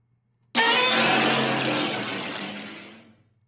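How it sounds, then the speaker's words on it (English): A single loud, harsh Godzilla-style monster roar bursts in after a short silence, sustaining for over two seconds before fading out. "That's what the roar sounds like on its own"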